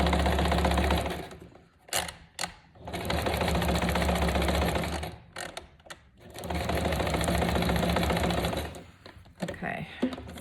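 A sewing machine stitches a journal signature with brown thread, running in long steady bursts of rapid needle chatter separated by short pauses, loud and close.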